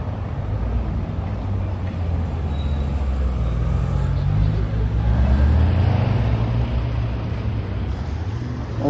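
A Ferrari sports car rumbles past on a Paris street, its deep engine note swelling and fading over steady traffic noise, loud and close throughout the clip.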